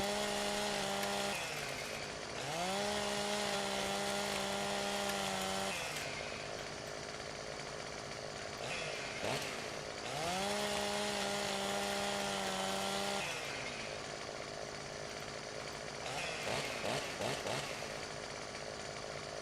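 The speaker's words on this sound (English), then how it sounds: "Gotta love this steel chainsaw." Steel chainsaw in Farming Simulator 17, a loud engine that revs up in two long sustained bursts and drops back to idle between them.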